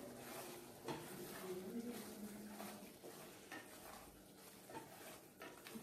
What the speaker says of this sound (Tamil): அப்பப்போ இதை கிளறி விடணும்,